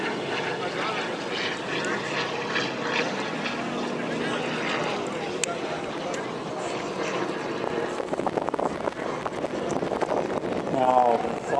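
A C-53 propeller transport plane, the C-47 type, drones steadily overhead at the 2014 Camarillo airshow during a D-Day drop simulation, with a continuous engine roar filling the clip.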